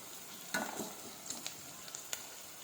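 Onions fry in a pan with a soft, steady sizzle for chicken curry. A few sharp scrapes and taps from stirring come through, and no one speaks.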